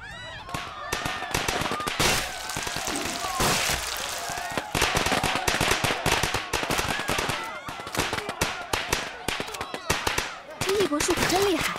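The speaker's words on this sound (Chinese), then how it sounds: "火苗趁势将鞭炮点燃，" A firecracker stall explodes in a movie scene, unleashing a long, loud, rapid string of crackling bangs that barely pauses, with voices and shouts mixed underneath.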